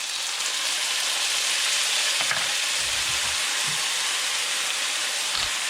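Chicken and noodles fry with a steady, even sizzle in a pan as soy sauce goes in, with a few soft stirring knocks near the middle and no talking.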